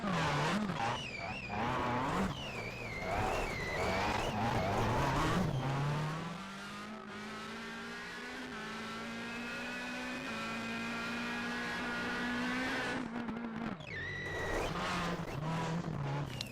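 Rally car in a racing video game spinning on a gravel stage at Coffs Harbour, engine whining and revving up and down before settling into a long steady drone, with tires scrabbling on loose gravel, loud and close.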